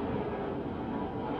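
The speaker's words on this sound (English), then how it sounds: "Oh, this plane is, oh wow, this plane is low." A low-flying airplane passes overhead with a continuous, heavy broadband rumble that stays loud and even the whole time.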